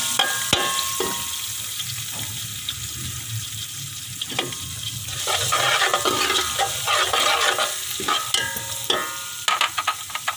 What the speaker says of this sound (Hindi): ये तकरीबन हम लोग सारे मसाले इसमें डाल रहे हैं और इसे अच्छी तरह से भूनेंगे।